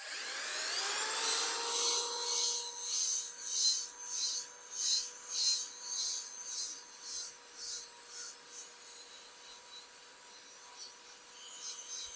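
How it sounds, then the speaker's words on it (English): Rhythmic rasping rub of pumice polishing a wooden cutting board, strokes back and forth steadily and close up, with no talking. "the pumice is breaking down as we're using friction, and while it's breaking down, it's polishing"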